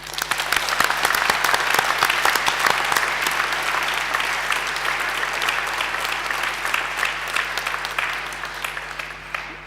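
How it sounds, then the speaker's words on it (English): Sustained applause from the audience at a university graduation ceremony, many hands clapping in a dense even roar that stays loud and steady, with a low steady hum underneath. "Please join me in giving them a round of applause."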